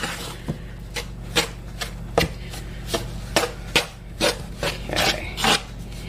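A knife cuts lard into pie crust dough for a brown sugar pie, making a steady series of sharp chopping taps and scraping rubs against a bowl, close up over a constant low background hum.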